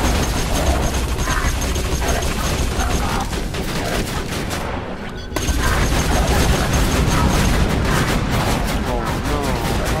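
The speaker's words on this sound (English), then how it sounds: "This small machine gun is fucking badass." Sentry gun turret in Borderlands 2 firing a small machine gun in long, dense rattling bursts with mechanical clatter, loud and close, a brief gap midway, while someone talks over the action.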